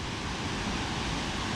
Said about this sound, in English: I could just stand here and watch at the waterfall all day.